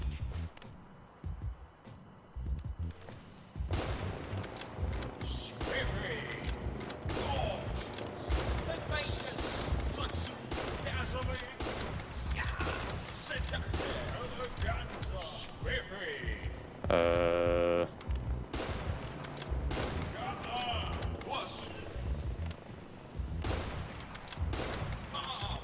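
Rapid bursts of gunfire from sniping in the video game Fashion Police Squad, dense and continuous over a bed of game music and effects, with a brief sharp buzzing tone partway through.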